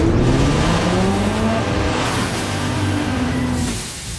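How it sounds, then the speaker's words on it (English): A car engine revving loud and close, its pitch climbing and sliding in sustained sweeps over about four seconds with no talking, then easing off near the end. "Rev up your engine."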